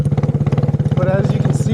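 A homemade 250cc go kart engine runs close by at low speed, a rapid steady put-put exhaust pulse with someone talking over it.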